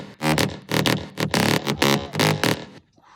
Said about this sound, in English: I found this synth that is basically an init from Serum